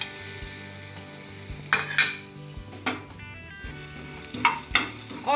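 Whole spices (coriander, cumin, black pepper, green and black cardamom, cinnamon, fennel and bay leaf) dry roasting over low heat in a pan. A soft sizzle runs under scattered spoon scrapes and metallic clinks against the pan.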